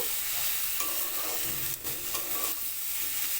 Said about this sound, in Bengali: মশলার সঙ্গে ভালো করে আলু আর সয়াবিনটা আমি কষিয়ে নিচ্ছি